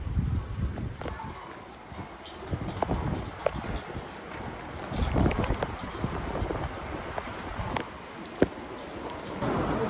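Heavy stormy rain pours down in a continuous wash of noise, with gusty rumbles and scattered sharper knocks, one louder thump near the end.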